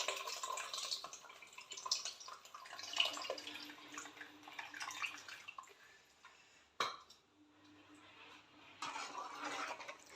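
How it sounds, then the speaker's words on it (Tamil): Tamarind water poured into a simmering fish-head curry, a faint splashing trickle with a few drips and clinks of a pot, quieting midway and then resuming softly. "புளி தண்ணி ஊற்றிக்கலாம்."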